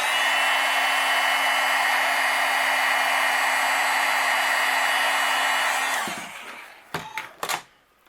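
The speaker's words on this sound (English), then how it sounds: "And then I'll take my heat gun and we'll melt it." A heat gun melts white embossing powder on stamped paper, blowing as a loud, steady hiss for about six seconds before shutting off, followed by a few faint handling clicks.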